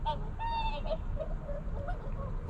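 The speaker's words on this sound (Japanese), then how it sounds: "あちこちから白鳥の鳴き声が聞こえてきます。" Swans calling back and forth across Lake Saroma in Hokkaido, a brackish lagoon by the Okhotsk Sea, with several honking, bugling calls at moderate distance over a steady low rumble of wind or ambient noise.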